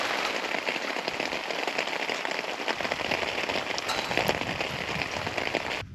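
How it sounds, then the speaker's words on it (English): Heavy rain pounds down on a campsite in the Drakensberg, a dense, constant hiss of drops striking close surfaces with occasional sharper crackling hits, loud and unbroken throughout, no voices. "It's coming down quite hard now."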